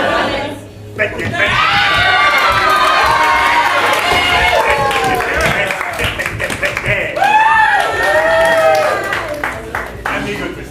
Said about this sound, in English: oh, they're just cheering for me